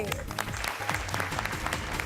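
Audience clapping steadily in a crowd, fairly loud and continuous, with a voice speaking over it.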